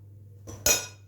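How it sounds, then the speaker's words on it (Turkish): A metal spoon scrapes and clinks in a bowl, spreading a mixture of grape molasses and yogurt. Two close, brief scraping touches come in quick succession, with no talk. "Demiş ki şimdi bunu güzelce şöyle bir gezdiriyorum kaşıkla"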